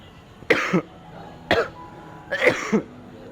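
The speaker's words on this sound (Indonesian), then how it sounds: "Maaf, aku lagi batuk." Three separate coughs, spaced about a second apart, fairly close and clear against a quiet background.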